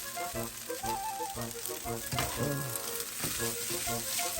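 Carrots fry for egg fried rice in a pan with beef stock, a steady close sizzle with occasional stirring clatter running under background music.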